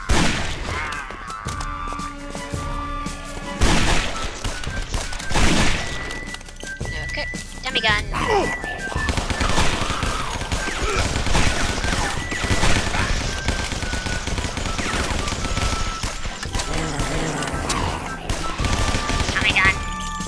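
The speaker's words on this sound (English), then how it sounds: "Tommy gun." Rapid Tommy gun fire in the game Guns Gore and Cannoli, repeated rattling bursts mixed with game clatter and music over about twenty seconds, with a voice talking throughout.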